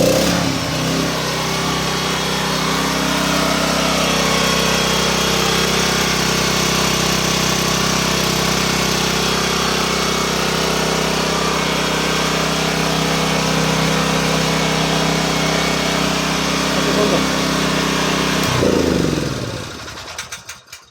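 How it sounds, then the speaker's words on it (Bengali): A Butterfly 6500 model generator with self-start, running as a loud steady engine drone close by for most of the time, then shutting off and sputtering to silence near the end. "আগে আমরা জেনারেটারগুলো স্টার্ট করি।"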